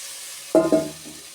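Fried vegetables tipped into a pan of cooked-down masala for a veg dal land with a sudden double clatter and sizzle, then settle into a quieter frying hiss after a faint steady background.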